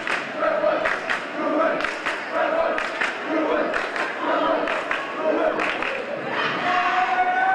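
A home crowd at a BHS vs RHS district finals game yells and cheers enthusiastically, a loud continuous roar with bursts of shouting and claps, voices mixed throughout.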